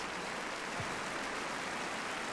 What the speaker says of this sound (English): And you could hear the collective awe from the crowd.